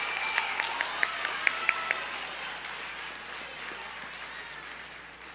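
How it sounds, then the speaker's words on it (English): Audience applause at a state history competition awards ceremony, a soft steady wash of clapping that tapers off, with a brief series of high electronic beeps early on. "Give a round of applause."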